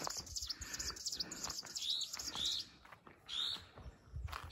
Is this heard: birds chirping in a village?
yes